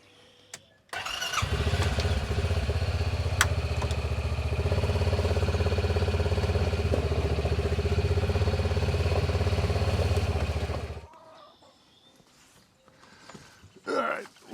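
Stihl HT 105 pole saw engine catches after a short pause and runs at a loud, steady buzzing idle close by for about ten seconds, then shuts off, leaving quiet handling noises.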